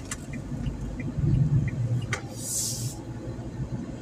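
A car drives steadily along a newly resurfaced road in Czeladź, a low continuous road rumble with a few faint clicks and a brief hiss partway through.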